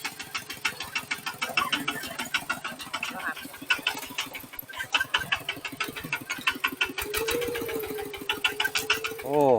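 A vehicle engine, apparently a small motorbike or farm truck arriving in a forest setting, runs with a steady rapid chugging pulse throughout, fairly close and prominent, with a brief rising whine near the end.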